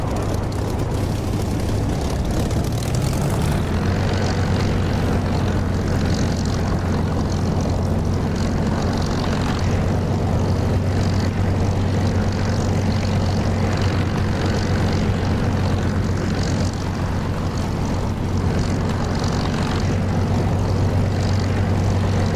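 A Spitfire's piston propeller engine in the flight simulator DCS drones steadily and loudly for the whole stretch, a constant deep throbbing hum with a slight shift in pitch early on and no voices.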